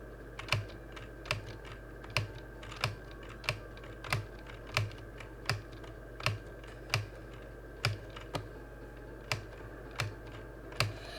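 Computer keyboard and mouse during play of the game Climb Time, with sharp, evenly spaced clicks about one per second over a steady low hum, close and alone.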